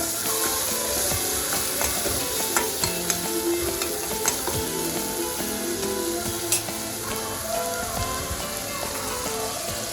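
Ginger garlic paste sizzles in a hot pan for a curry, a continuous bright crackle broken by the repeated scrape and tap of a spoon stirring, close and steady, with no talking.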